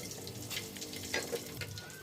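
Black sambal spice paste frying in duck oil, a faint, steady hiss and crackle with a few soft pops, heard alone for about two seconds.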